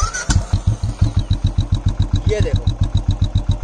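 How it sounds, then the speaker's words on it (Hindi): A Royal Enfield motorcycle with a modified exhaust fitted with a turbo whistle starts and idles with a loud, close, thumping single-cylinder rhythm, and a repeating high whistle chirps over each beat while someone speaks briefly. "आ रही है विसल की साउंड, तो बस ये साउंड है वो"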